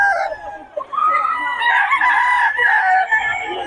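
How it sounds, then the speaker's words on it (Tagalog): Roosters crow loudly and close by, overlapping drawn-out calls with some clucking among gamefowl, heard alone without talk. "Solid mga manokis ni Boss Steve mga idol."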